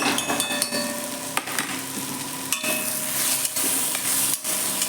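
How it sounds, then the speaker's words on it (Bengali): A spatula stirs fried cauliflower coated in ground spice powder around a frying pan. Steady sizzling is broken by repeated scraping strokes and sharp knocks against the pan, close and loud. "একটু নাড়ি চাড়িয়ে নিলে হয়ে যাবে।"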